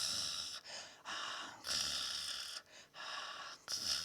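A voice imitates snoring with a run of breathy, nasal snorts in irregular bursts, about five of them close together, fairly quiet, with no other sound.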